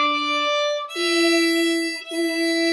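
Solo violin playing a few sustained bowed notes from the Suzuki piece Lightly Row, steady and clear with short breaks between bow strokes, close up and with no talking.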